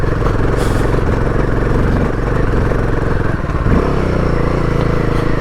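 A loud motorcycle engine thrums steadily while the bike climbs a rough, slippery mountain road toward Om Parvat on the Adi Kailash route. There is a brief clatter and a change in engine note partway through.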